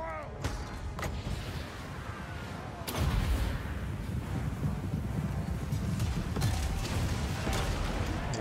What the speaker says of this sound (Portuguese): tem um tiro bem difícil aqui, mas talvez dê pra acertar agora do tempo.